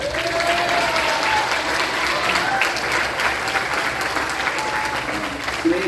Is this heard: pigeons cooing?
no